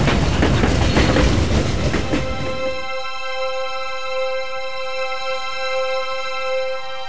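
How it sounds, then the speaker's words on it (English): Coal train running on rails near the Chengde rail yards, starting with loud broadband rumble and clatter that fades after a few seconds into a long, steady high-pitched wheel squeal ringing alone. "countless tons of coal will continue to be carried by train and consumed by a fuel-hungry nation"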